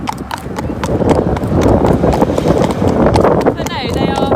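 Two ponies out hacking clip-clop along a road, their hooves striking in a quick, continuous rhythm up close, with wind and people chatting over the top, then a faint whistle-like chirp near the end.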